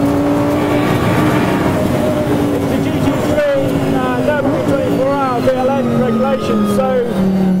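An Audi R8 LMS race car engine screams and revs up and down through gear changes, loud and close, with pitch sweeping high then dropping.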